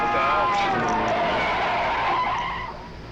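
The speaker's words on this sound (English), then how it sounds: "Glenn sees a car coming, and he grabs the wheel, running them off the road" A car skids on the road as it is forced off it in a 1960s film scene, a loud, sustained tire squeal with engine noise that fades toward the end.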